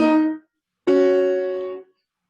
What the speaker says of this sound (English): Cello starts with a descending pattern of perfect fourths